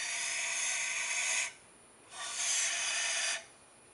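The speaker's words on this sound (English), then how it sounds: "you want to be able to get a good amount of carb cleaner into there" Carb cleaner sprays into a Weber 40 DCOE carburetor in two close, loud hissing bursts, the first about a second and a half long, then a short gap and a second burst.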